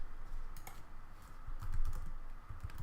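Keystrokes tapping out a Linux terminal command on a computer keyboard, a quick irregular run of close, clicky presses with short pauses, no voices.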